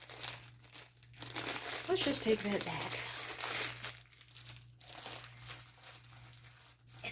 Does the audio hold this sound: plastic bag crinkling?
yes